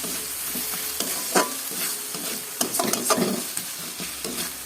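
Spoon stirring yogurt into matar paneer curry with peas in a frying pan: repeated scraping strokes over a steady sizzle, close and moderately loud, with no voices.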